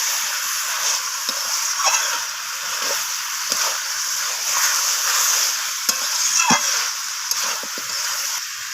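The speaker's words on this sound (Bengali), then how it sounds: "রসুনটাকে দিয়ে আমি আবারও কষিয়ে নিচ্ছি" Garlic paste for chicken curry is stir-fried in a pan, with a steady, close sizzle broken by brief scraping stirs throughout.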